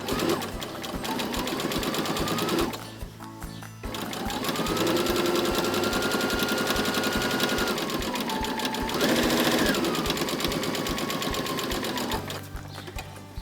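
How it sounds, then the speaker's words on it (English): A sewing machine runs steadily, stitching a fabric wallet in long continuous bursts with a brief pause and a restart partway through. The needle's rapid mechanical whir is close and loud. "I'm just going to add a couple stitches so there's some thread between them"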